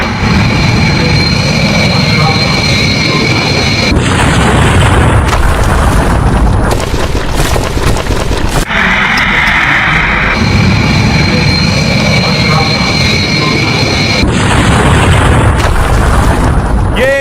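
Animated plane crash: a loud, dramatic crash with heavy rumbling booms and impact noise, repeated in bursts over sustained roaring, as the plane slams into a building just after takeoff.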